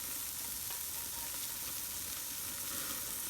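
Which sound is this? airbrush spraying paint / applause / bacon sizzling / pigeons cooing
bacon sizzling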